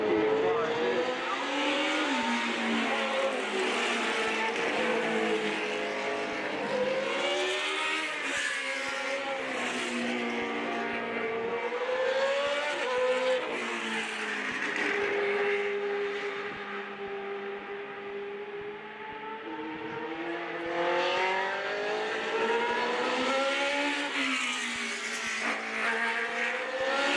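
Formula race cars at a 2015 reunion historic race scream around the track on their final lap, their engines wailing and shifting pitch as they rise and fall, loud and continuous.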